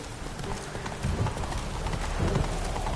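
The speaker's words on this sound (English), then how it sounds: "Run, Roach. Go, go." Hoofbeats of the horse Roach galloping in The Witcher video game, a steady rapid clip-clop rhythm running throughout at moderate loudness with faint background ambience and no talk.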